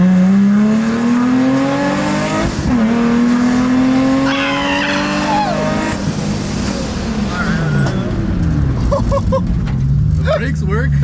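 A supercharged Infiniti G35 brakes hard, its engine note dropping sharply while tires squeal and skid, loud and close, with people talking over it.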